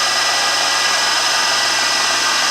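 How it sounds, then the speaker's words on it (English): A drill runs continuously through a metal part of an open column crank, a loud, close, steady high whine with no pauses or talk. "let's get this thing drilled."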